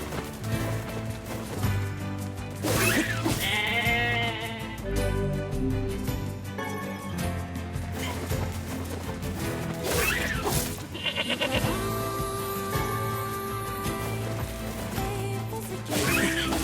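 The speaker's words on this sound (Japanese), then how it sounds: "Am I just supposed to kill a couple sheep?" Sheep bleat in the video game Nier Replicant: several wavering, nasal cries, loud and close, mixed with game music and occasional heavy thwacks from combat.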